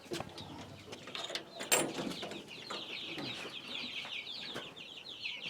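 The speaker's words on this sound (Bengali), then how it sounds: "জি জি এটি অষ্টালব মুরগির বাচ্চা আমি নতুন উঠাইছি" Young Australorp chicks in a farm brooding house peep in a busy, high-pitched chorus of overlapping chirps, with a few mechanical clunks and knocks nearby.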